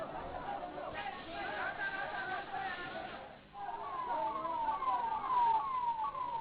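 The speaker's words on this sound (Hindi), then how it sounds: "एम्बुलेंस के पहुंचने का सिलसिला भी लगातार जारी है।" Ambulance sirens wail repeatedly at the scene of a fireworks factory explosion and fire in Harda, rising and falling tones sounding amid a busy crowd with steady chatter underneath.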